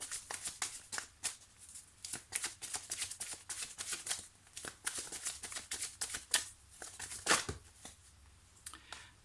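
Tarot cards shuffled and drawn one by one in a quiet room, a dense run of quick papery riffles and flicks with brief pauses between bursts.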